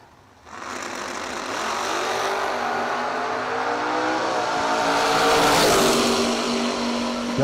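A Chevrolet Nova and a Camaro launch at a bracket drag race, engines roaring up from near-silence into a loud sustained blare that builds and holds, with no talk over it.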